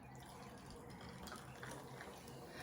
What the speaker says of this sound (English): And then I just fill this up with some soda water.